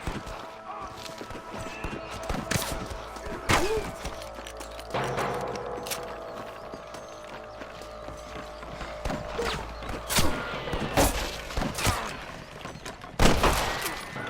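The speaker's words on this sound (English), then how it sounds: "I can hear more gunshots." Sporadic gunshots crack out in the Red Dead Redemption video game, sharp isolated bangs spread across the scene amid clip-clopping hooves, creaks and other game sounds.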